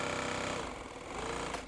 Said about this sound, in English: Let's just wind the bobbin thread.